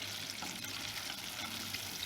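Jamaican French fry chicken frying in hot oil, a steady, dense sizzle with fine crackling that carries evenly throughout, fairly close and moderately loud, with no voices.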